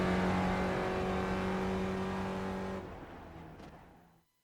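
Race car engines roar along the pit straight at Circuit Gilles Villeneuve, Montreal, in the iRacing sim, a loud sustained drone of several cars that thins and fades away over the last second and a half.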